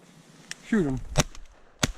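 Two sharp, brief shotgun reports about half a second apart ring out while duck hunting in a blizzard, just after a short voice.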